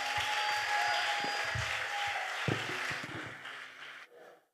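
A church congregation applauding and cheering for the Lord during French-language worship: steady, dense clapping with scattered voices and tones underneath, fading out near the end.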